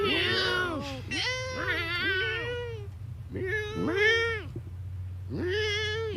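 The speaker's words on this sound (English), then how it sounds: "We've got a cat that is meowing for some milk" A hungry cat meows repeatedly for milk, giving four loud, drawn-out, wavering cries close by over a steady low background hum, with brief gaps between calls.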